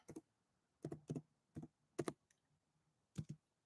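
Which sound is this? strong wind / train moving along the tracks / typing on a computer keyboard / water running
typing on a computer keyboard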